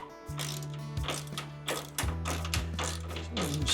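Close, rapid clicking of a ratchet tightening a bolt on a headlight motor gear, in short back-and-forth strokes with a couple of brief breaks.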